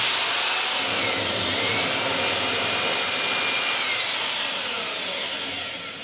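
A loud, steady motorized whine of a powered drill boring into the ground for a post anchor, grinding continuously, close up, with a broad roaring texture that eases slightly at the end.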